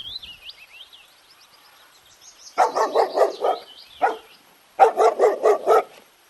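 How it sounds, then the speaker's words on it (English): A dog barks in two quick bursts of several loud, close yaps, separated by a pause, with a shrill whistle-like tone running before and between them. "D for dog"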